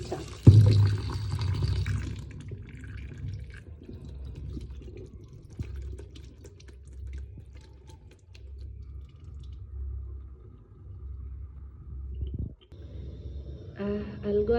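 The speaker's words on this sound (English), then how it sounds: "I'll just run the water until all the milk is washed away." Tap water runs steadily over beef liver in a kitchen, rinsing away the milk it soaked in, a soft continuous gush with light splashing throughout.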